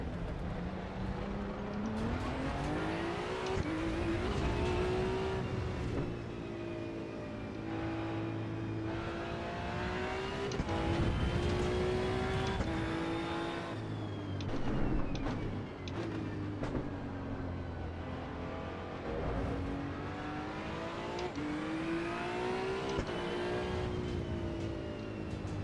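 A Datsun 240Z lapping a track in the racing game Assetto Corsa EVO on cold tyres, its engine droning steadily with the pitch rising and falling through shifts across the whole stretch, no talk.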